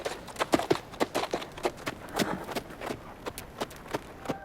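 Hooves of a white horse in a film scene clop in a steady, quick rhythm at moderate distance, sounding alone with no talk.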